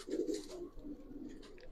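Giribaz silver pigeon cooing softly nearby, a short, low, throaty coo lasting under two seconds at quiet volume.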